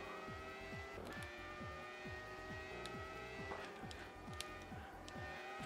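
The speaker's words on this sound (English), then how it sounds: "Wow, that's an engine sound." Race car engine from the PS2 racing game Le Mans 24 Hours, screaming steadily at high revs with repeated rapid gear-change dips and a sharp shift or two, loud and continuous with no talk.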